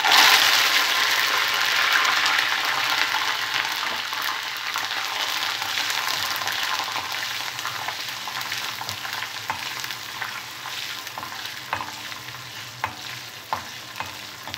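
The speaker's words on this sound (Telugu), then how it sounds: "కరివేపాకు కూడా ఫ్రై చేసుకోవాలి." Curry leaves fry in hot oil for a crispy sabudana mixture, giving a continuous close hiss that eases slightly over time, with occasional sharp pops and crackles toward the end.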